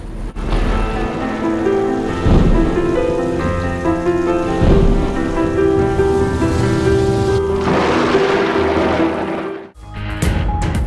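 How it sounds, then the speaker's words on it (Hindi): Rain falling in Punjab, Pakistan, a steady close wash of drops with a few low rumbles, while music and tones play over it and a brief dropout comes near the end. "लाहौर समेत पंजाब के मुख्तलिफ शहरों में बारिश से मौसम सुहाना"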